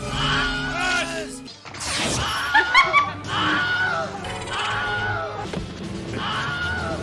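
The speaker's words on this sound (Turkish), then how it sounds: "1951'de çekilen şu filmden beri kullanılan ses efekti var" A stock film scream effect, in use since a 1951 film and reused in over 400 movies, bursts out once, briefly, amid laughter and lively chatter.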